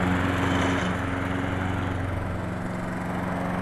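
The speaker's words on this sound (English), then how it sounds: "now running over this with a mower to pick up all this waste" A lawn mower runs over a freshly scarified lawn, collecting the raked-out grass waste with a loud, steady, close engine drone and whirring blades, with no voices.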